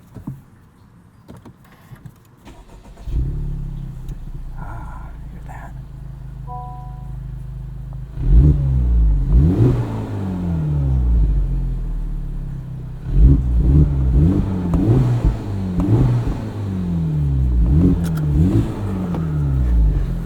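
A 2023 Honda Civic Type R with front resonator delete cranks and starts, settles into a low rumbling idle, then revs sharply several times with a deep, loud exhaust note, door open.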